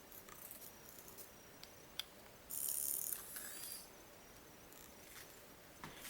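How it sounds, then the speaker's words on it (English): A Photosmart M547 digital camera's autofocus motor gives a short, buzzing mechanical whir of about half a second, with faint clicks before and after, against quiet room hiss. "It has a very loud autofocus motor."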